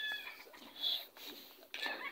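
Chickens cluck and squawk close by in short bursts, several calls in quick succession over a quiet background.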